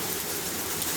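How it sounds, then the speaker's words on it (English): Hail clatters in a dense, steady wash of impacts during a storm in Perth, a continuous close hiss with no talk. "but we've got hail."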